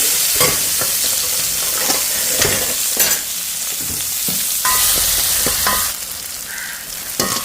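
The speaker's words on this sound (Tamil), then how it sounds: "நான் இப்போ வெங்காயத்தையும் முள்ளிகையும் போட்டு தாளிக்க போகிறேன்." Onions, chillies and fennel seeds fry in hot oil in a home kitchen, giving a loud, continuous sizzle broken by sharp scraping clatters from stirring.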